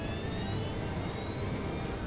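A KLM jet airliner bears down through fog on a runway, its engines producing a steady, loud roar with a high whine running over it, unbroken and close.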